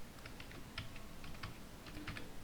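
Quiet keystrokes on a computer keyboard come in short bursts of clicks with brief pauses, faint and close, with no voices.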